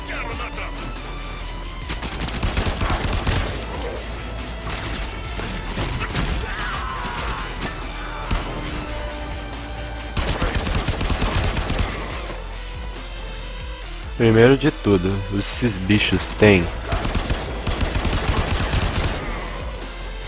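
Gunfire in the video game Warframe, repeated sharp shots and rapid bursts with crashes and impacts, under someone talking in Portuguese.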